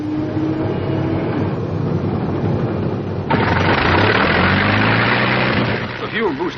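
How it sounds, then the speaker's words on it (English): A P-51B fighter's piston aircraft engine cranks and catches with a sudden loud onset partway through, settling into a steady, heavy rumbling run, with a pilot's voice heard over it. "Finish check, starting engine."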